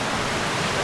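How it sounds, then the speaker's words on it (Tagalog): A stream flows on a rural farm lot in Real, Quezon, heard as a brief, steady rushing wash of water, close and fairly loud without pauses. "May batis pa."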